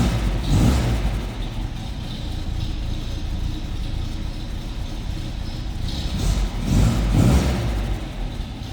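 An old 1954 MG TF convertible engine idles steadily with a low rumble, swelling into two brief revs near the start and end.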